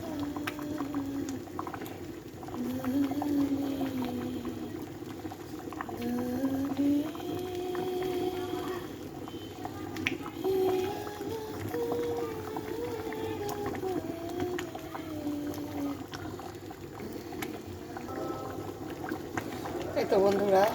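Potato curry (aloo ghonto) with broth added, bubbling and simmering in a pot, a steady soft bubbling and gurgling that continues throughout with a voice speaking over it at times.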